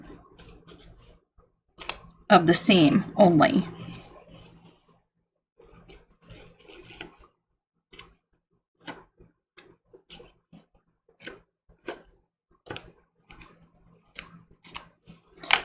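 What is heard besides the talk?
removing foundation paper from a quilt block seam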